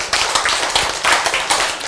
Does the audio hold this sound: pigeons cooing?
no